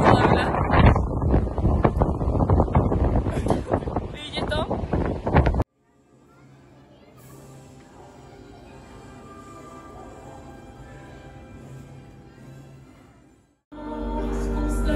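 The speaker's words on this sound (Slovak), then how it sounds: "Takže ukážka, ako tu fúka. Postavme sa proti vetru." Strong gusts buffet the microphone outdoors in Chaumont, France, as a loud rumbling roar that cuts off abruptly, leaves a quiet stretch, then bursts back in. A person speaks briefly.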